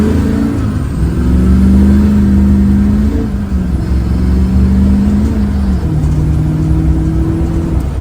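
A modified diesel truck engine held at full throttle, a loud, steady close-up roar with a droning tone that wavers slightly and dips briefly mid-pull, with no voices.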